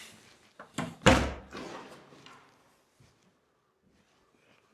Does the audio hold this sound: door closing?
yes